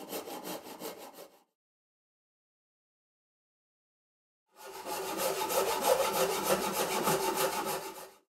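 A handsaw rasps through a wooden guitar body blank in steady rhythmic strokes, a short burst followed by a pause and then a longer, louder run of close sawing.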